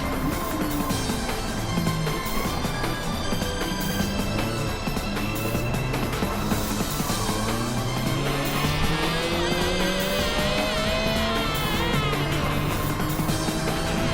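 Race cars roar around a track as a Porsche-engined Beetle drags against a Mustang, with loud continuous engine wail, shifting pitch sweeps as cars pass, and some tire squeal.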